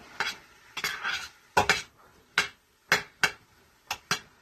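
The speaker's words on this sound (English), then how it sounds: "Now, go ahead and stir this up." Ham and potato soup ingredients stirred in a pot: a spoon scrapes and knocks against the pot in about nine distinct strokes, close and fairly loud, with short quiet gaps between them and no talking.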